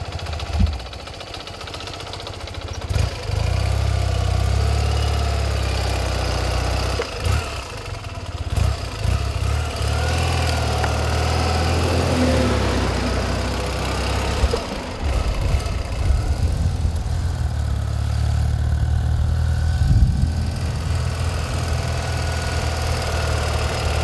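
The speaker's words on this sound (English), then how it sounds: "This bike's ready to rumble." A 1981 BMW R65 motorcycle engine idles steadily and fairly close, a continuous low rumble with a few small revs and bumps, running alone without talk.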